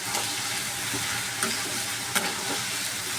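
Chopped onions with a little salt sizzle steadily in a hot pan, a continuous crackling fry with occasional louder pops and stirring scrapes, no talking.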